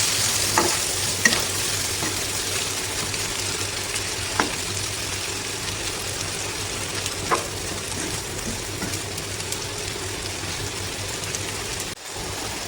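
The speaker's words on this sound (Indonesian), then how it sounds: "tumis ebinya sampai wangi ya. Jangan lupa diaduk agar tingkat kematangannya merata ya" Soaked, ground dried shrimp (ebi) stir-fried in a pan, a steady close sizzle throughout with occasional scraping stirs of the utensil.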